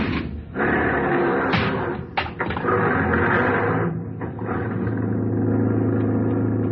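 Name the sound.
taxi driving off in radio drama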